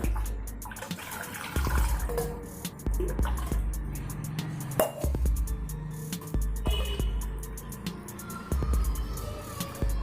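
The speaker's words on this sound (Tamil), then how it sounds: "இப்போ இதில் தேவையான அளவு தண்ணி ஊற்றலாம்" Water pours and splashes into a pot in uneven bursts while making holy basil rasam, with clinks and knocks of utensils between pours.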